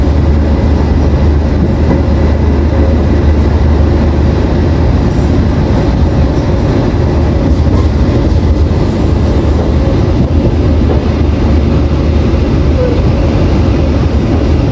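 The Argo Sindo passenger train runs out of Bekasi station alongside a KRL commuter train, giving a loud, steady interior rumble and rolling roar without a break.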